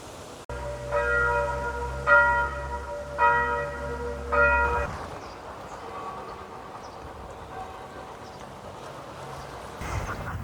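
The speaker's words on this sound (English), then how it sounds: "the bells were ringing as we walked past" Bells of a 13th-century church ring in several loud, resonant strikes in the first few seconds, then their ringing fades into a quieter outdoor ambience along a countryside walking route near Dorsington.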